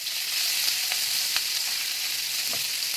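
A steady, close sizzle of green chillies and curry leaves frying in hot oil for dosa masala, with a faint clink or stir now and then.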